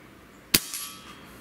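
A pellet from a Benjamin Akela PCP bullpup air rifle strikes an egg target: a single sharp crack followed by a short, fainter splatter. The impact is clear, with no talk over it.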